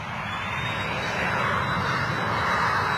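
A Ryanair Boeing 737-800 jet arriving at London Stansted produces a continuous broadband roar that holds steady and swells slightly over three seconds, heard from a distance without voices.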